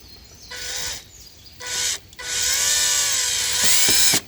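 A power drill drives screws straight into wood without pilot holes, heard as three separate whirring bursts of rising pitch, each lasting under a second to nearly two seconds, close and fairly loud, with brief quiet gaps between them.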